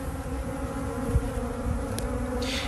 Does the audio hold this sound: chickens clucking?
no